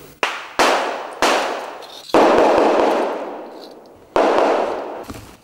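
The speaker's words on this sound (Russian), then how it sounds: "По сигналу раздаются выстрелы" Loud gunshots at a counter-terrorism training exercise, six sharp blasts at irregular intervals, each followed by a long reverberating echo tail, as if outdoors over open ground.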